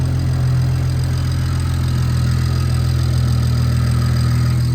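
A BMW 335xi with a built engine idles steadily and up close, giving a continuous deep, even rumble that holds at the same loudness from start to finish, with no talking over it.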